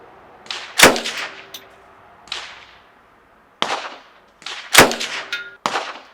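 Sharp gunshots from an indoor shooting range in Prague, five loud reports spaced irregularly over several seconds, each with a crisp attack and ringing decay, with no talking.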